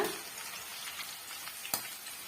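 Ladies finger (okra) snacks fry in a pan over medium heat, giving a steady close sizzle and hiss with a brief sharp clatter near the end, no voices.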